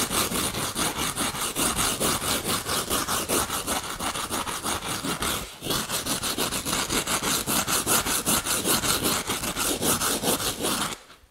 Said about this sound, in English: You can see how this heavy rasp file makes real short work of taking foam off on these fish.